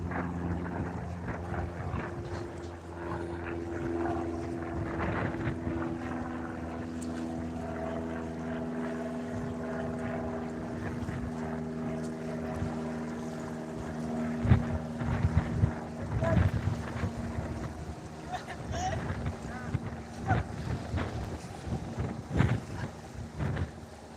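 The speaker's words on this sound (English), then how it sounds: "So the wind is extreme at this point, really windy." Strong wind gusts buffet the microphone on the Toronto waterfront near Billy Bishop Airport, a rumbling roar with a steady engine-like drone beneath. Voices talk over it, and the gusts turn louder and more choppy toward the end.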